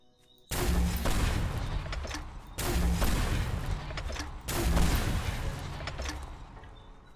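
Gunfire shooting zombies in the video game Night of the Dead, three loud sustained bursts of rapid shots, each dying away before the next begins.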